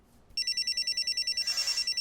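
A mobile phone in a kitchen rings with a bright electronic trill, a rapid pulsing tone that starts abruptly after a moment of quiet and repeats steadily, fairly loud and close.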